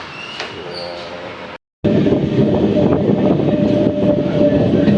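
A passenger train runs toward Channarayapatna railway station, giving a loud, steady rumble and rattle of wheels and carriages that drops out briefly before resuming, with a faint whistle-like tone early on.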